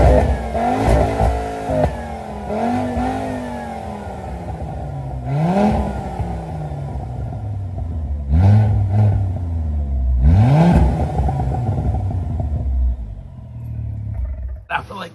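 A warmed-up Volvo C30 engine revs loudly in repeated surges, each blip rising and falling sharply, close by and shaking the surroundings, with voices talking between the revs.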